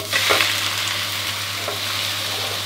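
Battered mussel pancake frying in a hot pan just after being flipped, a loud continuous hiss of sizzling oil close up, with a couple of faint scrapes, no voices.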